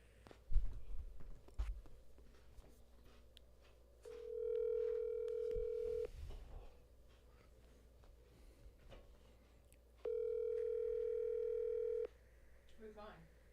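A telephone call sounds two long, steady ringing tones separated by a pause, heard clearly over quiet room noise with a few faint knocks and movements.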